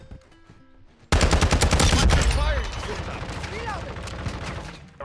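Rapid shotgun blasts in the Call of Duty Modern Warfare 2 video game, loud and densely packed after a quiet start, then tapering into busy game noise as a voice talks over it.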